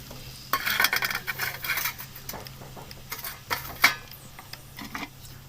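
Two medium chopped onions dropped into hot ghee in a kadai for chicken biryani, with a soft sizzle beneath clinks and scraping stirs of a metal spoon against the pan, close and moderately loud, no talk.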